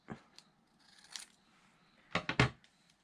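Scissors trim a paper cover for a small handmade junk journal notebook, giving a few quick, close snips: one at the start, one in the middle, then three crisp cuts in a row near the end.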